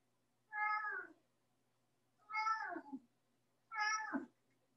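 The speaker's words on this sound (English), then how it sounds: "have to excuse my cat. He's meowing right now." A pet cat meows three times in a quiet indoor room, each meow short and distinct with brief silent pauses between them.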